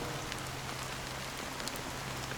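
Rain falling in the Honkai Star Rail video game, a steady dense hiss of downpour with scattered droplet patters, even and continuous throughout with no voices.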